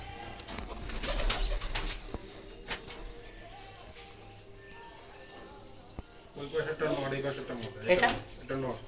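Pigeons kept as pets coo softly in low, repeated murmurs close by, while someone talks over them and a few sharper bird calls come through toward the end.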